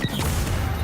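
A flashbang grenade goes off in a team shooter game, a single loud broadband burst right up close that fills the short moment with harsh noise.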